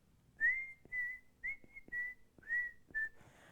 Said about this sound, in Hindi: और बैकग्राउंड में विसिल है ये.